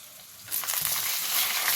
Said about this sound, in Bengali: প্রথমে সর্ষের তেল দিয়ে নেবো তারপর ওর মধ্যে দিয়ে দেবো রসুন